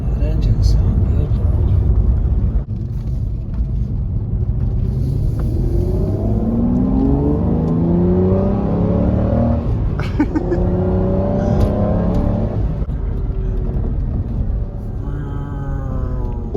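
An Aston Martin DB9 engine roars loudly up close, revving and climbing in pitch as it accelerates through the gears of its six-speed manual gearbox.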